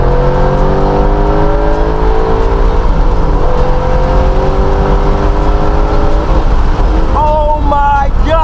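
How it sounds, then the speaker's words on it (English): A 2014 Mustang's engine roars at full throttle in second gear from about 4,500 rpm, a loud, steadily rising drone that climbs through the revs before a quick shift and fresh pull near the end. "get some full throttle pulls with this car"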